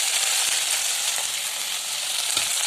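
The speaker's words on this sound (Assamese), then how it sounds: "মছলাখিনি ভাজি আপোনাৰ ইয়াতে দিবা" Spices frying in hot oil for a home-style pilau, a steady, close sizzle and crackle running evenly throughout with faint stirring clicks and no talk.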